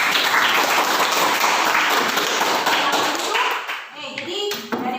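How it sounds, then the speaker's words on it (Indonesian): Dense, steady clapping from a secondary-school biology class in Ambon, applauding students after their presentation. It rolls on for about four seconds, then thins into scattered claps and room noise. "kita berikan aplaus untuk"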